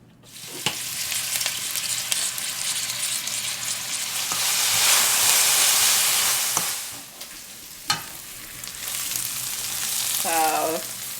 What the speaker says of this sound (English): we're going to go ahead and saute the rest of the onions that we have